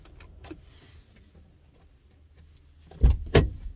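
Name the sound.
car door closing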